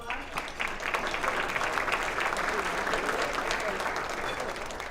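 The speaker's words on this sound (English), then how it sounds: "Can we give them a round of applause?" An audience at a city luncheon address applauds in a dense, steady round of clapping that holds at a fairly even level from start to finish, with faint voices mixed in.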